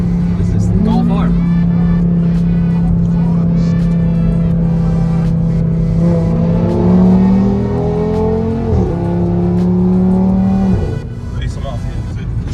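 A Volkswagen Golf R cruises along a highway, its engine a steady close hum with a rising rev toward the end, while people talk inside the car.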